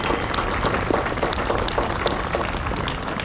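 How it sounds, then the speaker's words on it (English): Outdoor crowd at a rally for a live sheep export protest convoy in Perth, clapping steadily in a dense wash of applause with no voices on top. "Give yourselves a round of applause."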